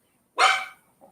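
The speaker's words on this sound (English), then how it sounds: "She probably heard the dog." A dog barks once outdoors, a single sharp, fairly close bark with a faint trailing sound after it.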